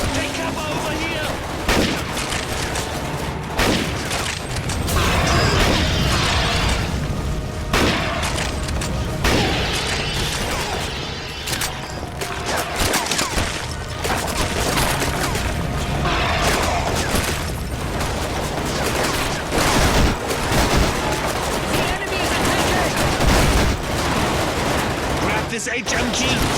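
Dense, sustained heavy machine gun fire and booming battle noise in the shooter NecroVisioN, loud and continuous throughout with scattered bursts and impacts, a voice occasionally shouting beneath the din.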